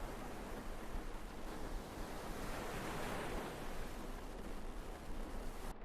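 Ocean waves in a video game form a steady, continuous wash of surf at moderate distance, with no talking over it.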